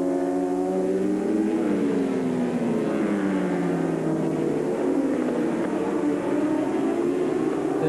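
Superbike motorcycles racing down the straight at Oran Park circuit in a 1985 series race, several engines screaming together at high revs with rising and falling pitch as the pack charges past, loud and continuous.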